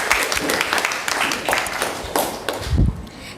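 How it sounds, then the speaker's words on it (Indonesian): Classroom applause during a teaching-practice role-play lesson, a dense burst of clapping from a group of students that thins out near the end, with a thump and some voices mixed in. "Tepuk tangan untuk Angel."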